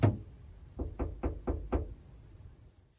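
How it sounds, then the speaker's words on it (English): Knocking on a locked car door at a campsite: a sharp first rap, then a quick series of four evenly spaced knocks, close and clear, followed by silence. "they knock again"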